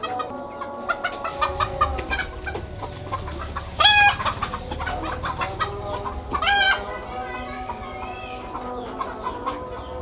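Chickens cluck and squawk close by at a coop, with a couple of sharp louder calls standing out over continuous farmyard noise.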